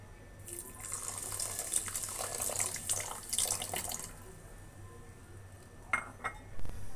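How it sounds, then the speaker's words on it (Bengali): Half a cup of water is poured over sugar to make syrup for motichur laddu, a faint, steady splash lasting a few seconds, followed by a couple of light clinks of utensils. "হাফ কাপ পানি দিয়ে নেব।"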